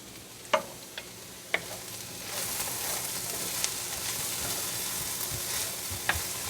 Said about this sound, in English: Go ahead and brown these onions and get all this stuff good and cooked